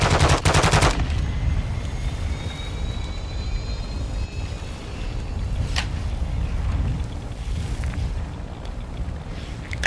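AK rifle fire in Call of Duty DMZ on Ashika Island: a loud rapid burst at the start, then scattered distant shots and booms over a steady rumbling game backdrop, with no talking.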